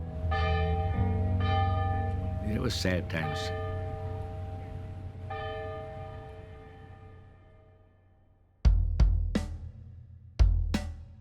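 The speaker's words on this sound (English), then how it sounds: "word got around of somebody to ring the church bell" A church bell at a mining town tolls, ringing out a few sustained strokes that fade slowly, followed later by two sharp nearby strikes, with a voice briefly speaking.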